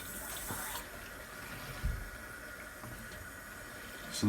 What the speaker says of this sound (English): So you have your alkalized water coming out the top